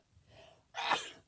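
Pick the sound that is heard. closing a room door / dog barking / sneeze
sneeze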